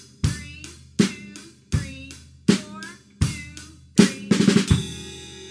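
Drum kit playing a verse groove with steady accented hits about once a second, ending in a quick fill of four rapid strokes and a ringing cymbal, loud and close.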